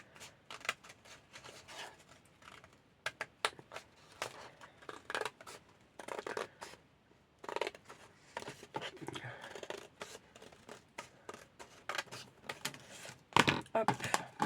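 Scissors snip through paper for a junk journal in a crafting session, quick irregular cuts and rustling handling noises spread across the span, fairly quiet, with a person talking intermittently.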